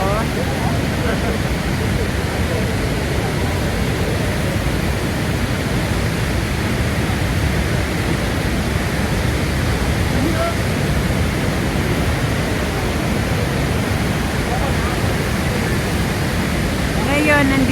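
Roaring water of Niagara Falls, a constant broadband rush heard up close and loud without a break for the whole stretch.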